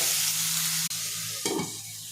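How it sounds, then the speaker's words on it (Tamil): Bottle gourd sizzles and fries in oil over low heat, with a sharp clink midway and a stirring scrape near the end. "சிம்மில் வச்சு ஒரு 10 நிமிஷம் எண்ணெயிலே வதங்கட்டும்."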